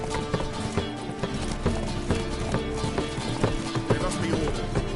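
Roach the horse galloping in The Witcher 3, a quick, steady drumming of hoofbeats in a regular rhythm, close and clear over a dense game soundscape.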